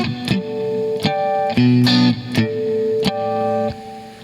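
Electric guitar plays a chord riff through a Trinity Triwatt amp, with sharp strummed chord hits roughly every half to one second, some ringing and others choked short, loud and close with no talk.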